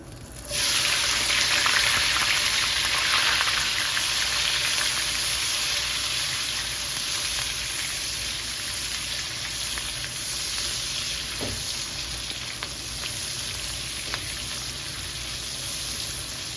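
Onion and garlic fry in oil in a pan, a loud, dense, continuous sizzle and hiss that starts suddenly and holds steady throughout, with faint stirring scrapes.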